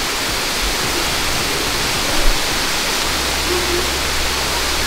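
A waterfall in Bali roaring as a loud, close, unbroken rush of white water that fills the whole clip, with a brief low thump partway through.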